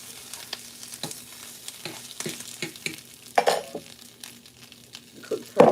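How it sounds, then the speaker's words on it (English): Bacon frying in a pan with a steady low sizzle, broken by repeated close taps and scrapes of a utensil turning the strips, a few louder clatters near the end. "turn over the bacon."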